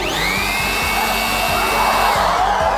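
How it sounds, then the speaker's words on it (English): Powerful electric blower running continuously at close range, a loud steady rushing whoosh with a high motor whine and no voices. "now with this powerful blower"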